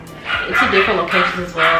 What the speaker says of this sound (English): Y'all please excuse my dogs in the background